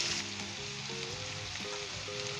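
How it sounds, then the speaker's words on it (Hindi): Chicken sizzles steadily in oil and ginger-garlic paste in a pan, a continuous crackling fry without speech. "2 से 3 मिनट तक हम इसे अच्छे तरीके से फ्राई करेंगे अदरक लहसुन के पेस्ट के अंदर।"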